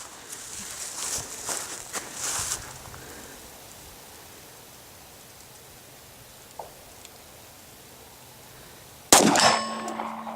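Glock 17 pistol rounds strike a steel target with sharp metallic clangs, several in a cluster early on, a faint one later and a loud close impact near the end, in a quiet outdoor range.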